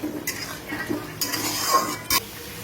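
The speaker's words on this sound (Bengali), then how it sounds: "ভালো করে মশলাটা কষিয়ে নেব" Spices and potatoes being stirred and sautéed in a pan, giving a few scattered scrapes and light metallic clinks from the spoon over a faint background sizzle.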